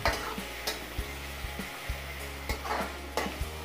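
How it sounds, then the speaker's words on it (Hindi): Onions fry lightly in a pan for rajma, keeping up a steady sizzle, with a low hum underneath and intermittent soft scrapes from stirring. "इसे ज़्यादा ब्राउन नहीं करेंगे, बस प्याज का कच्चापन निकल जाए इतना इसे हम पका लेंगे।"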